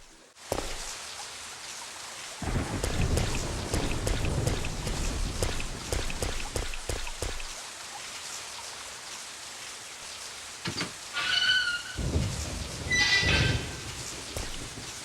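Rain falls steadily in the survival-horror game Resident Evil 3: Nemesis, a continuous broadband hiss with scattered louder patters and thuds, plus brief tonal game effects near the end.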